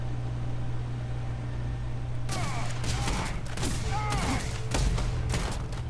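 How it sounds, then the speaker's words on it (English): A slow-firing gun in Starfield fires a handful of sharp shots at a steady, unhurried pace over a constant background hum, starting partway through with a few spaced bursts. "that's as fast as this gun can shoot"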